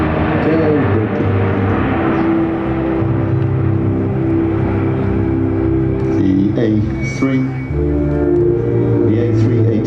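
Airbus A380 airliner with four Rolls-Royce engines flying past at the Paris Le Bourget air show, a loud continuous engine roar and rumble filling the air while a commentator talks over it.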